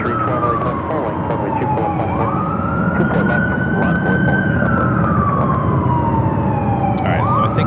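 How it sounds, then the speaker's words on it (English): A loud ambulance siren wails up and down close by near LAX airport, over a constant rumble of traffic and engine noise. "That is the loudest ambulance I think I've heard in a while"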